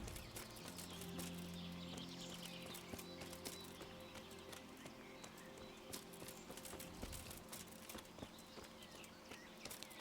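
A horse in Kingdom Come: Deliverance moves with steady hoof clops, moderately loud and continuous over ambient outdoor game sound and a sustained tonal background.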